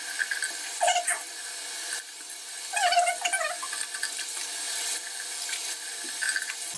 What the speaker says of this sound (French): Puis je vais me rincer quand même le visage aussi